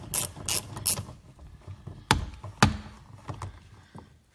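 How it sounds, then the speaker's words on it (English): Swivel ratchet working a bolt loose from the door panel of a 1996–1999 Buick Park Avenue/LeSabre, with a few quick clicking ratchet strokes, then sharp separate clacks and knocks of the tool and metal, close and fairly loud. "Swivel ratchet comes in handy"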